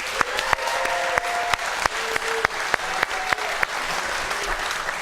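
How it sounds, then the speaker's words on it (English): An audience claps steadily with scattered louder claps standing out, a full continuous round of applause from a crowd. "Let's hear it for Mr. Fred Jackson"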